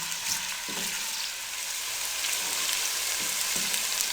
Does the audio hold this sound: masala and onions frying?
yes